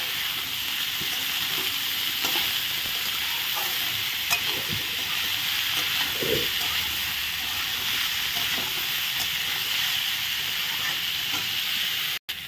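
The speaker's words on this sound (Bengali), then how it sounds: "লবণ দিয়ে একটু ভালো করে নেড়ে নিচ্ছি" Goat liver and young jackfruit curry with salt being stirred in a pan, a steady sizzling hiss running throughout with occasional soft scrapes of the spoon, ending in a brief clatter.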